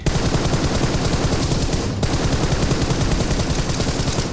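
Rapid automatic gunfire from a PUBG Mobile match, a loud continuous burst of shots that stops abruptly near the middle and then resumes at the same relentless rate.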